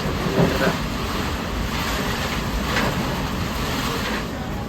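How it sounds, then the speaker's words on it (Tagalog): Strong wind roaring steadily in broadband gusts, loud and close, buffeting the microphone throughout with no voices. "Lakas ng hangin."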